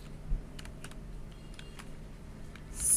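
Someone types on a computer keyboard in a brief run of light, close clicks over a low steady hum.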